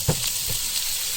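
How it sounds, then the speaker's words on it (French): Small wild carrots dropped into very hot oil give a brief burst of frying hiss and crackle, close and fairly loud, lasting about a second. "Voilà l'huile bien chaude. Et là, on va mettre les petites carottes sauvages."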